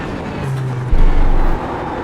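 A BMW GT3 race car in the iRacing simulator roars through the Nurburgring GP circuit, a continuous engine drone with a brief louder surge near the middle, heard alone without talk.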